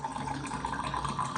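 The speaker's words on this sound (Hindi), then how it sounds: "मैंने अपना गिलास रखा हुआ है और फटाफट हम पानी भर लेते हैं" Tap water running into a plastic glass during a pre-dawn Ramadan meal, a steady close filling hiss and gurgle with no talk.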